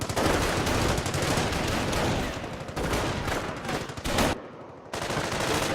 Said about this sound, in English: We gotta stay away from that machine gun in that house though.